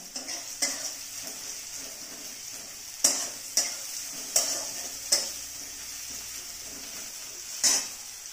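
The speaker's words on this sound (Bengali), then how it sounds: "মোটামুটি একটু ভাজতে হবে পেঁয়াজগুলো, যাতে পেঁয়াজের কাঁচা গন্ধটা চলে যায়।" Onions stir-fried in a pan for a mushroom curry, with several distinct scraping stirs at irregular intervals over a steady low sizzle, close and moderately loud, no talking.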